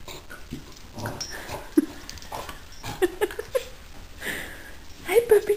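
A puppy chewing a hoof treat whimpers and yips in short, high, nasal bursts scattered through the moment, up close, amid soft sniffs and rustling.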